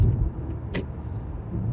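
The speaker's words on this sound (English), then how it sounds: "Man, look at this traffic, man." Road traffic rumbling steadily nearby, with a brief hiss like an air brake from a passing bus or truck partway through, continuous low engine noise throughout.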